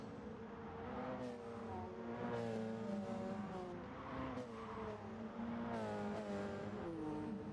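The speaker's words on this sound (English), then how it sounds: "We've got Mons there chasing down Juttengo in the slipstream along the Kemmel Straight" Race cars in Gran Turismo Sport at Spa along the Kemmel Straight, engines droning steadily with rising and falling pitch as cars slipstream, faint and continuous without talk.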